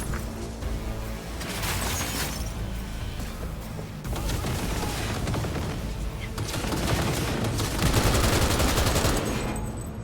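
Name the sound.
gunfire in the video game Cyberpunk 2077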